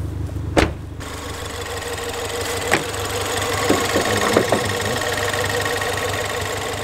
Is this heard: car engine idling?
yes